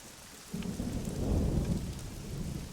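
Lightning thunder and rain from the video game AI: The Somnium Files roll in as a deep rumble swelling under steady rainfall, loud and sustained with no voices.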